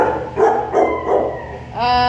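Several dogs barking and yipping in a kennel, bursts of close, loud barks repeating through the clip, with a whine near the end.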